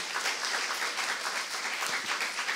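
Steady applause from a church congregation during a Saturday worship sermon, a dense even wash of clapping that fills the whole stretch with no voices over it.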